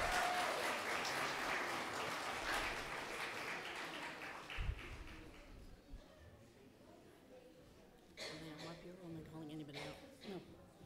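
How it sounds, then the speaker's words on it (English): Applause for preschool and religious school teachers at a Teacher Appreciation Shabbat, strongest at first and slowly thinning, with voices talking over it and a louder spoken passage near the end. "Yeah, you can applaud. They deserve it."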